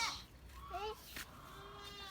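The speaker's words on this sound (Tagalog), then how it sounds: "Malambing na kambing." A goat on a farm gives a short nasal bleat, with people talking around it and faint farm background noise.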